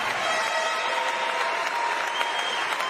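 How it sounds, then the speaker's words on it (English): Steady, dense applause from a large audience at the Ms Olympia 2021 classic physique finals, a continuous wash of clapping heard at a moderate distance with no voices over it. "let's have a round of applause for them"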